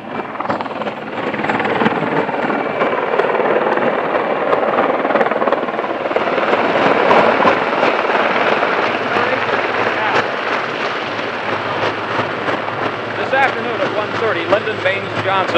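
Military helicopter at Camp Pendleton, the Marine base north of Oceanside, during a 1967 presidential visit, a loud, steady rotor and engine roar that holds through the whole stretch, with someone talking over it.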